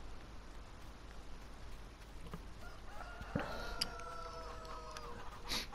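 Chickens clucking and crowing in Farming Simulator 19 on a farm, faint intermittent calls over a steady rain-like hiss, with a louder bird call near the end.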